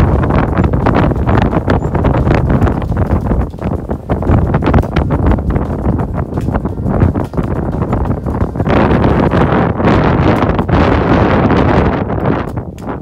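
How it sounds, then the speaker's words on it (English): Strong wind buffets a microphone outdoors, loud rumbling gusts roaring continuously and close with no letup for the whole stretch. "the wind is blowing a bloody hooly"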